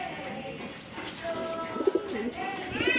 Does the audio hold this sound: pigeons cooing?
yes